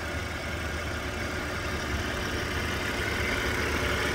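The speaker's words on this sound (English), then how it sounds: "There it is, V6 supercharged. A true handcrafted AMG motor." Supercharged V6 in a Mercedes SLK32 AMG idles at a steady, even low rumble, heard from a moderate distance with no talking over it.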